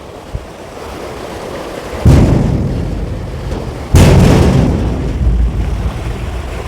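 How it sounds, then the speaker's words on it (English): Footsteps on a metal footbridge on the Wli Waterfalls trail: two heavy, resonant thuds about two seconds apart, each ringing out and fading, over a constant rush of falling water. "So the sound of the metal."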